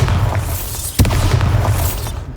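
A Bombarda spell explosion in Hogwarts Legacy on PC, a loud booming blast near the one-second mark. Dense game noise with a low rumble surrounds it, with no talk.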